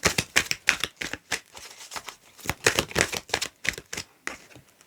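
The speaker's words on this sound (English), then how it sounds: "Can I just get a few cards from this deck" Tarot cards being shuffled and drawn from a deck, a quick run of crisp, close flicks and slaps in uneven bursts, with no talking.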